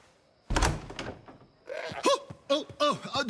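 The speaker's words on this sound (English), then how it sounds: "Open this door or I'll kick it in!" A door in Assassin's Creed Odyssey is kicked in with one heavy, close thud, followed by voices talking.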